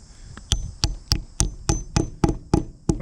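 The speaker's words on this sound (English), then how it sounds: "we'll take just a simple hammer and we just simply pound them in" Hammer pounding concrete anchors into drilled holes, about nine sharp, loud metallic strikes in a steady rhythm roughly every third of a second, close up and alone.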